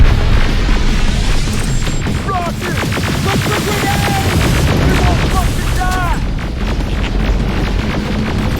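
Video game gunfire in Terminator Resistance, rapid bursts and booming shots layered over a dense battle din with electronic chirps, loud and continuous, with a voice speaking briefly amid the noise.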